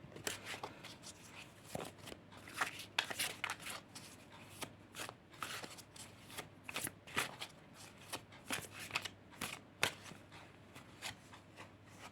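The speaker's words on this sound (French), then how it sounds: "Donc, je vais battre tout de suite les cartes." Tarot cards being shuffled close up, a quiet series of soft riffling and slapping bursts in an uneven rhythm, with no voices.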